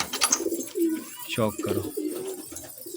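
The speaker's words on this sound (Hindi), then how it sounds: "ये देखो ये दो कबूतर ये हैं" Close, soft cooing from a pigeon, a few low throaty calls mixed with someone speaking nearby.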